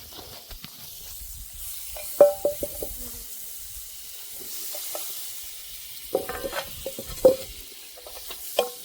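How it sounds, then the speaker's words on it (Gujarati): Aloo paratha frying in butter on a pan, giving soft, intermittent sizzles and a few clinks or scrapes, with bursts of activity near the start and end and quieter stretches between, with no talking. "પરોઠો તૈયાર છે હવે આપણે શેકી લેવું તો આપણે નાખશું બટર"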